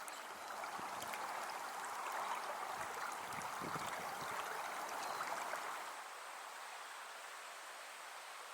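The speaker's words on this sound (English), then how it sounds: "I'm on a small tributary now" Small tributary stream of a New Zealand trout river, its water flowing steadily in a broadband rush close by, with a slight drop in intensity near the end.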